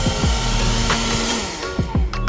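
A cordless battery-powered Craftsman job site fan whirs loudly and steadily up close, its airflow hiss broken by a few short thumps and knocks of handling.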